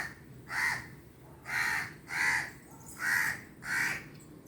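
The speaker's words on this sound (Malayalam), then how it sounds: "കാക്ക വന്ന് വേദക്കുട്ടി വിളിക്കുന്ന കേട്ടോ" A crow caws five times in a steady, evenly spaced series of harsh calls. The calls are fairly close and clear over a quiet background, with no talking.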